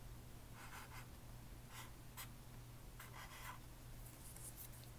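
Pencil writing a short word on paper: several brief scratchy stroke bursts with pauses between them, faint and close, over a steady low background hum.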